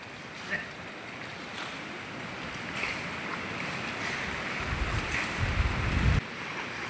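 Irrigation water pours down through a dug channel into a Konkan paddy field being readied for rice transplanting. It is a steady, close rushing flow with a heavier splashing surge near the end.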